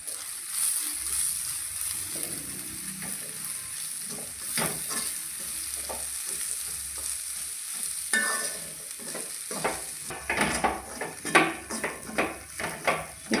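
Spice masala for a Kerala-style egg roast is stirred in a pan over low flame, with a soft steady sizzle under scraping spoon strokes that grow louder and quicker toward the end.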